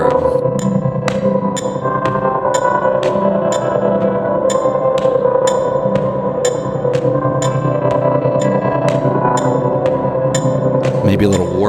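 Electric guitar with drive removed and reverb added: sustained, washy chords ring out under a regular clicking pulse, steady and close throughout with no voices.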